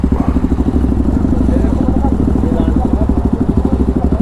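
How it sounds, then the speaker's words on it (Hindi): Several motorcycles idle together at the start of a group ride from Ghaziabad to Rishikesh, a loud, steady throbbing engine rumble with rhythmic pulsing throughout, close by. "अपनी बाइक हो गई है सारी स्टार्ट"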